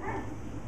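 A dog barks at a cat: one short, close bark, loud and alone.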